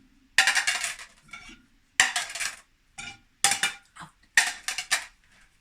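Dishes and cutlery clatter in four separate bursts as a dishwasher is unloaded, each loud clinking flurry followed by a short quiet gap, close by and with no talking.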